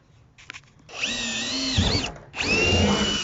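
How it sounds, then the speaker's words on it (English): A power drill bores drainage holes through the bottom of a plastic wormery bin in two sustained, loud whining bursts with a short pause between them, nearby and with no talk over it. "next step is going to be to put some drainage holes in the bottom"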